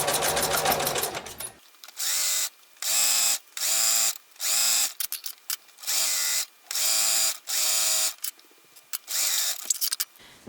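Sewing machine stitching elastic onto underpants fabric, a fast motor buzz in about eight short even bursts with brief pauses between, after a longer opening run.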